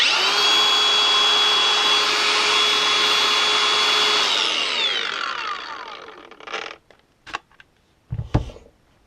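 A cordless Makita power tool powered by a non-genuine aftermarket battery whines steadily at high speed, then spins down over a few seconds, followed by a few close clicks and knocks.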